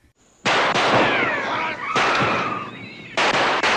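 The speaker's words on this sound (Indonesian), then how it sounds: "dar-der-dor suara peluru" Loud, close bursts of gunfire, three sharp volleys with crackling echoes trailing after each, no voices.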